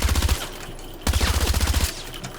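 Suppressed USG-90 gunfire in a video game: two fast bursts of muffled, rapid shots, the first short and the second longer after a brief pause, loud and close with no talking.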